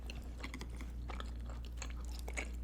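Close, wet chewing of a juicy pork soup dumpling, with soft squelching bites and smacking in an irregular rhythm, quiet and unaccompanied by talk, over a steady low background hum.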